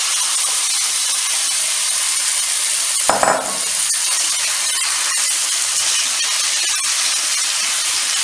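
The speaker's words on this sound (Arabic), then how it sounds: "وغادي نهبط دابا بالشاورما ديالنا كيف ما كتشوفوا، نحاولوا تكون العافيه مجهده باش ما يطلقش لينا الدجاج ديالنا الماء" Chicken shawarma frying in butter and olive oil in a hot pan, a constant bright sizzle with a brief louder burst and a faint clink partway through, close and without speech.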